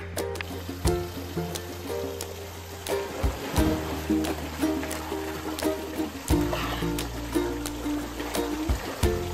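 Supi River in Lower Siang, Arunachal Pradesh, rushes past with force, a steady broadband roar of churning water with periodic splashes and surges, fairly close and continuous.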